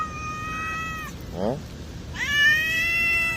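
Hungry cats meow while waiting to be fed, two drawn-out, insistent cries close by with a brief rustle between them over a steady background hiss.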